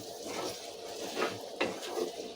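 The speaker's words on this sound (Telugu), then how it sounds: "ఒకసారి ఇవన్నీ కలిపేసుకుందాం" Fried taro pieces are stirred in an oiled pan for an egg curry. A spoon scrapes and clinks against the pan several times over a low, constant sizzle. The sound is quiet and close, with no talking.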